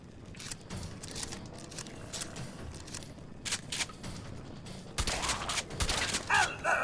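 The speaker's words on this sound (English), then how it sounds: "It appears someone is shooting at us." Rapid bursts of gunfire in the Fallout 4 video game, with irregular volleys of shots and a louder, denser flurry near the end over constant game background noise.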